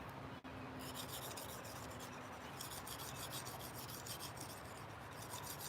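Knife blade sharpened on a diamond stone, faint repeated gritty rasping strokes, close and quiet with no talk.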